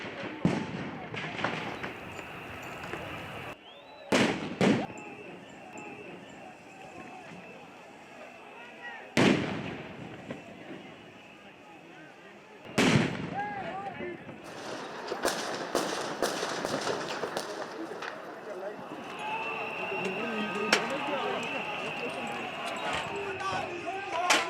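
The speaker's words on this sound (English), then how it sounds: "The police resorted to gunfire to stop them from entering." Sharp, loud police gunshots ring out irregularly at the Kenyan Parliament, some isolated and some in quick clusters, amid protest crowd noise and shouting outdoors.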